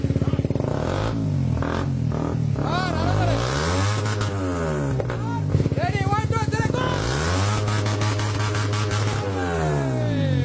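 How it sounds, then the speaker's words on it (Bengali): A motorcycle fitted with an R1-series, GSX-R-style aftermarket exhaust revs loudly and close, its engine climbing and falling in several throttle blips, with people talking over it. "তো আমরা R1 সিরিজের এক্সজস্টের জিএসএক্সআর এর ফিলটা নিব।"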